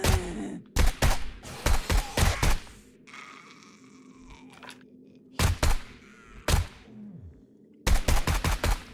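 Bursts of gunfire in the survival game 7 Days to Die, Darkness Falls mod: rapid volleys of loud, close shots separated by quieter gaps with background ambience, the shooting returning in several clusters.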